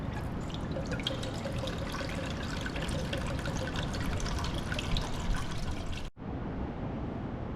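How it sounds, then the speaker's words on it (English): Deionized water pours steadily into a laboratory calorimeter for a heat of combustion experiment, a continuous splashing trickle running close and fairly loud for about six seconds before cutting off abruptly into quieter room hiss. "After that you can pour the water to the calorimeter."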